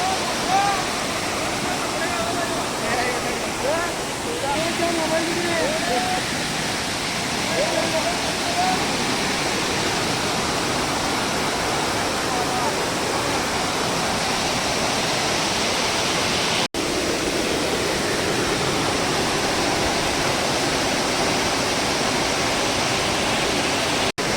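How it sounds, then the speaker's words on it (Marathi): Steady broadband rush of falling water from a small waterfall, Basri waterfall near Hatkanangale, Kolhapur, running low on water, continuous and fairly loud throughout, with faint voices now and then underneath. "आता धबधबा बघा छोटासा आहे एकदम"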